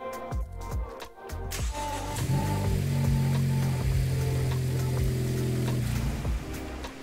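A Ford Focus ST engine idles nearby after an oil change, with a steady low hum and rumble, after a few irregular clunks and knocks at the start.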